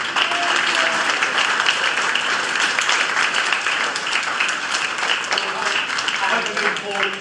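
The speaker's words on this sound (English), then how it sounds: "would you mind saying thank you to him a round of applause?" An audience gives a guest speaker a round of applause, dense and continuous clapping of many hands at an even level throughout, with faint murmuring voices mixed in.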